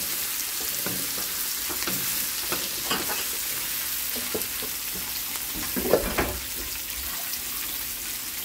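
Shrimp sautéed with ground black pepper sizzles steadily in a pan while a utensil stirs and scrapes in irregular clinks, close and continuous with no talk.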